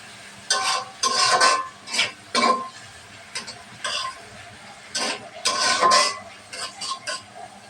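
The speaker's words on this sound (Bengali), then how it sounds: "পেঁয়াজটা ভালোভাবে ভাজা নেব।" Chopped onion and four green chillies fry in oil in a pan for a rohu fish curry, heard as a series of loud, close scraping stirs of a spatula against the pan over a faint sizzle.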